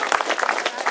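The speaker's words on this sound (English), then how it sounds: "Give them all a big round of applause" An audience at a school event claps for singing schoolchildren who carry Irish and Australian flags. The clapping is close and moderately loud, with uneven bursts through a single second.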